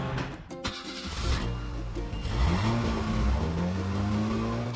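A car engine in a mobile video game revs and rises in pitch over several seconds, mixed with cartoonish game effects, fairly quiet and without speech.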